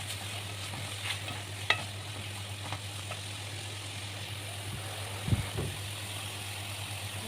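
Vegetables and tomatoes sauté in a pan with a soft, continuous sizzle. A low steady hum runs underneath, and occasional spoon scrapes and knocks come through. No one speaks.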